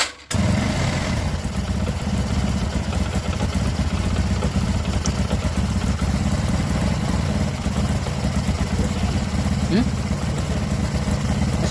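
A motorcycle engine freshly fitted with a new piston starts after a short starter crank and then settles into a steady, loud idle that runs continuously, with faint voices nearby.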